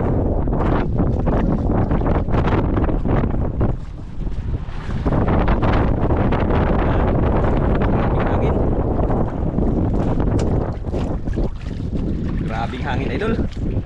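Strong wind buffets the microphone in a loud, continuous roar, with brief lulls and rumbling gusts; a voice speaks faintly underneath.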